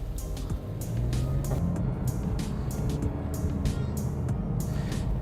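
A 2020 Nissan Juke Ti on the move, with steady engine and road noise rumbling continuously under faint wind hiss, close and unbroken without speech.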